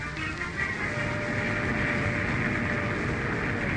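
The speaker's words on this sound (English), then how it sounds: "Here comes the train." A train pulling into a small-town station, a steady rumbling roar with a faint whistle-like tone, moderately loud and continuous, with no talk.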